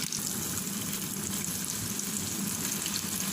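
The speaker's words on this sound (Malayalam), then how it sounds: "ബാക്കി കൂടി ഞാനൊന്ന് ഫ്രൈ ചെയ്തെടുക്കുന്നു." Beef rolls frying in hot oil give a steady, dense crackling hiss that runs unbroken and fairly loud, with no voices over it.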